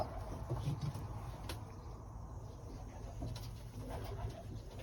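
Long-distance marathon racing pigeons coo softly and steadily at a low level, a faint, murmuring throb with the occasional sharper note and no talking.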